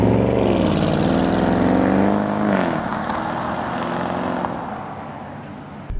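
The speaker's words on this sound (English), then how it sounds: "What we have here is Porsche's 4-liter twin turbo V8" A Porsche Cayenne GTS Coupe from 2021 with a 4-liter twin-turbo V8 revs loudly and close, its engine note sweeping up and then falling back before settling into a steady, rumbling drone.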